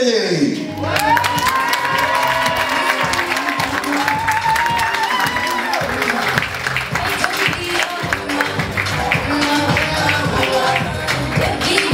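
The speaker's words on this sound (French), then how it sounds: "Je vais vous demander un tonnerre d'applaudissements pour les médaillés." Applause for the medal winners at a French national equestrian championship award ceremony, a dense and sustained burst of clapping and cheering from the crowd that holds steady for the whole stretch, with a voice heard over it.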